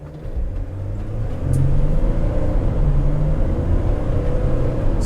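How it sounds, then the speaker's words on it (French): A Mercedes Sprinter van's engine accelerates at full throttle from a stop, a low droning rumble that swells after the first second and holds steady with a rising tone, heard from inside the cabin with no talking. "Et là, je vais accélérer à fond."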